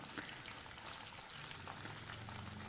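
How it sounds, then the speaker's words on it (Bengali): Okra frying in white oil sizzles and bubbles steadily at a low level, a soft continuous crackling with a few sharper pops and no voices. "এর মধ্যে দিয়ে দেবো সমস্ত ভেন্ডিগুলো, আগে ভালো করে ভেজে তুলে নেব"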